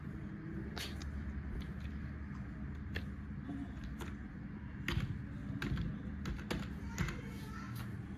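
A name is typed on a laptop keyboard during a factory reset setup: sparse, quiet, irregular key taps sound close over a faint background hum.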